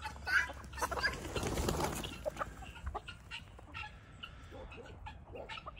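Chickens on a farm, hens and roosters gathered for mealworms, cluck and squawk in a busy overlapping chorus nearby, with scattered sharper calls over steady outdoor background noise.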